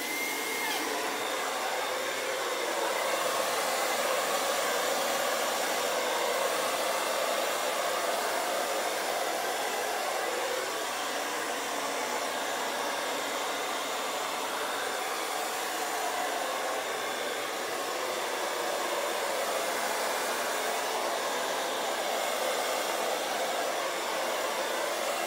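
A hair dryer blows steadily across wet paint in a Dutch pour, a loud continuous airy roar that holds unbroken for the whole stretch with no voices.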